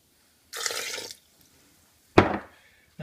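Water poured into a Breville blender jar over ice for an Optifast smoothie, two short splashing pours separated by a pause, close and fairly quiet.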